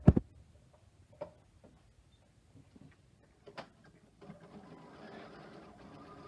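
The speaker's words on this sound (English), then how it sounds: "I'm going to sew all the way around the tab, back tacking at the start and at the finish" A sewing machine stitches around a fabric scrunchie tab with back tacking at the start and finish. A few scattered clicks and taps come first, then a steady running whir builds up over the last couple of seconds.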